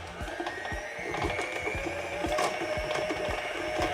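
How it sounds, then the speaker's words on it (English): A stand mixer with a paddle attachment creams butter and sugar on high, a steady close mechanical whir with rapid rhythmic clicking and knocking from the beater running throughout. "You're gonna cream your butter and sugar up for about 3 minutes on high until it's light and fluffy."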